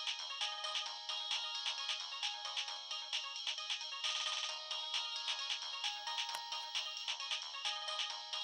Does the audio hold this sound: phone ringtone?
yes